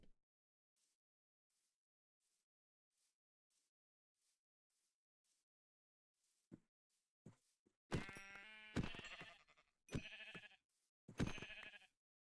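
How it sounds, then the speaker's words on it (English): Sheep bleating in the Minecraft video game, several loud bleats in a row near the end after a faint rhythmic patter of footsteps, with no talking. "Oh, wait, there's a sheep."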